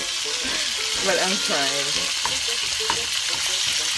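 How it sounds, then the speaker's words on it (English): Eggs frying sunny side up in a pan, a steady close sizzle and crackle running throughout, with a voice talking briefly over it. "I have never ever been good at freaking frying freaking eggs."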